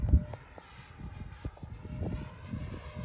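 Freewing MiG-29 RC jet flying at half throttle, a faint distant whooshing hum of the electric ducted fan that rises and falls as it passes, with light thumps and outdoor background noise.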